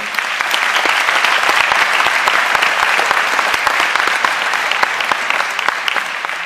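Sustained applause from a concert audience at an Epiphany concert in Alès, clapping for the mayor; dense, steady hand claps, loud and continuous throughout with no talk.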